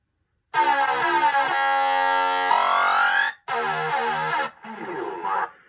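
Loud electronic tones from a Williams System 9 pinball machine sound test play in sequence: buzzing chords, a sustained tone, a rising sweep, a short pause, then a warbling tone that fades.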